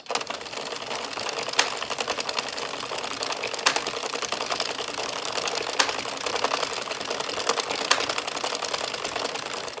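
An Addi circular knitting machine is cranked round at a steady pace, giving a dense, rapid clicking and rattling of needles, close and loud, with a few sharper clacks recurring every couple of seconds.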